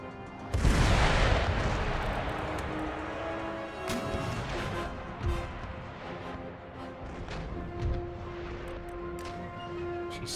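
Warship cannons fire a broadside during an Empire Total War naval battle: a heavy boom opens the clip, then further thuds and crashes roll on beneath sustained battle noise.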